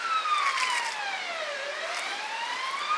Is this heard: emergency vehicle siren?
yes